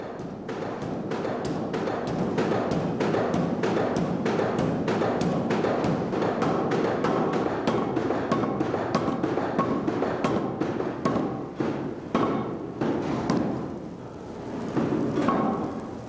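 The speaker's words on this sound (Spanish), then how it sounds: "el suelo de la ferrería de Mirandaola vibra a cada golpe del martillo." A water-powered trip hammer strikes iron at the traditional Mirandaola ironworks forge, heavy blows landing in a steady, rapid rhythm over a constant rumble, briefly pausing before resuming near the end.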